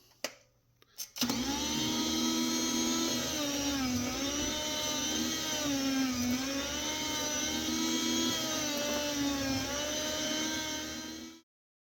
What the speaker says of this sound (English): I got everything set up on this meat slicer